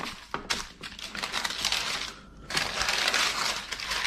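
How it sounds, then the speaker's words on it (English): Parchment paper rustles and crinkles loudly and close up as a batch of burger patties resting on it is lifted and flipped over all at once, with brief sharp crackles and a short pause midway. "I'm just going to pick up all this parchment at once"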